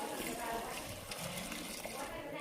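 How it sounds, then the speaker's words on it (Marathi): Plain watery soup is poured into a pot of country rooster curry, a soft, quiet gush of liquid with a voice faintly in the background. "आता आपण यामध्ये ॲड करू आपलं आळणी पाणी सूप."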